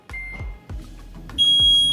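A heat press beeps on finishing a quick five-second SportsFilm heat transfer vinyl application, with a few dull thumps followed by a sustained high electronic tone, loud and close.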